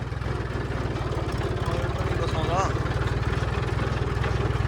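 A Swaraj 744 tractor engine runs close by, a steady low diesel thrum with a rapid, even pulse that holds throughout.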